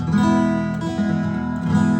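A slide guitar tuned to open E strums a chord that rings out and sustains, with a few soft plucks and shifting notes layered over the steady tone.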